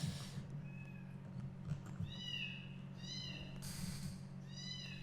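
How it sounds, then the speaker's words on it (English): A cat cries indoors with a series of drawn-out meows, several in succession, moderately loud over a steady low hum. "my cat is crying"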